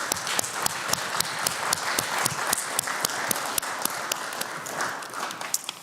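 An audience at a summit applauds as team members and board directors stand to be recognized. Steady, dense clapping with sharp individual claps fills the room from start to finish, with no talking over it.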